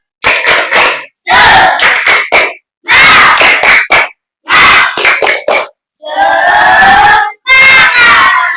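Schoolchildren in a classroom performing the tepuk semangat clapping chant, loud bursts of rhythmic group clapping alternating with shouted chant phrases, separated by short sharp pauses.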